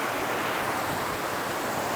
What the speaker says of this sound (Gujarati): આગળથી એક ધોધ છે, અહીંયા બધા ચીલ આઉટ કરવા આવતા જ છે.